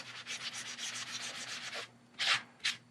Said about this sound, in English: We're not doing a deep clean or anything with the magic eraser.